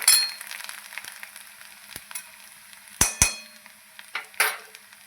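Coconut masala paste sizzling in hot oil in a pan over a wood-fired stove, a steady frying hiss broken by a few sharp clinks and scrapes of a spoon against the pot, with no voices.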